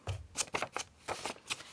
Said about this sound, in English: So we'll just put in a permanent crease there.